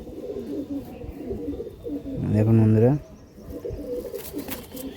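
Super-quality pigeons on sale in Hooghly give a loud, close, rolling coo that lasts about a second in the middle, while someone talks before and after it.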